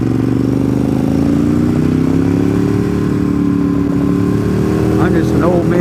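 A red motorcycle ridden fast on a road, its engine droning loudly and continuously with a steady rising pitch and heavy wind rush.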